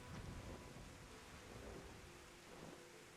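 Steady rain with rumbling thunder fills a dark, stormy scene in the video game Final Fantasy XIV, a continuous soft wash of downpour with low rolls underneath and no voices.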